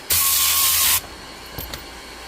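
Compressed air bursts out in one loud, close hissing blast to loosen gunk from carpet, lasting about a second, followed by a couple of faint clicks and quiet.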